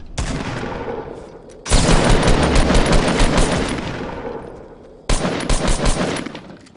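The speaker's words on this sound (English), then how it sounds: "He's got a minigun." Minigun fire in the Fortnite game, loud continuous rapid bursts, one long stream lasting several seconds and then a second burst after a brief gap, close and dominant with almost no talk.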